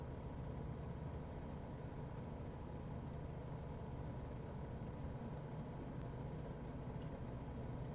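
A single-engine light aircraft in Microsoft Flight Simulator runs at full throttle over Norway, a steady loud droning engine roar that holds without a break, with no talk over it.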